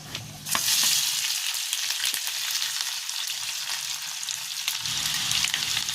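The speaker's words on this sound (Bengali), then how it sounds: "ওই তেলে 2টো তেজপাতা দিয়ে দিলাম, আর দিয়ে দিচ্ছি যে রসুনটা কেটে রেখেছিলাম" Two bay leaves and chopped garlic dropped into hot oil for palak paneer, a loud burst of sizzling right at the start that settles into a steady, close crackle throughout.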